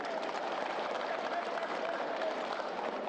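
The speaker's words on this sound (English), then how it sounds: "I want you to give me a very good round of applause for keeping a united family." A crowd applauds at a special anniversary session of the House of Representatives, a dense, even wash of clapping from many hands that holds steady from start to finish.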